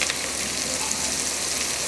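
Onions and spices sautéing in a pan for Madras-style fish curry, with crushed garlic added, giving a steady close sizzle and crackle throughout with no talking.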